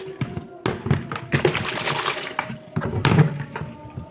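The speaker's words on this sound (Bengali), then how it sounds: "এবার আমি এর মধ্যে জল নেব, পরিষ্কার জল" Clean water is poured into a container for washing a heavy blanket at home, giving close, irregular splashing and gurgling bursts that rise and fall over about four seconds.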